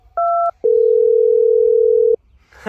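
Mobile phone call tones ring out loud and clear: a short two-tone beep, then one long steady tone of about a second and a half, with nothing else audible.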